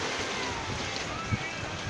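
Heavy waves wash steadily against a pink floating cottage at sea, a constant broad surging roar with wind buffeting the microphone and no clear breaks.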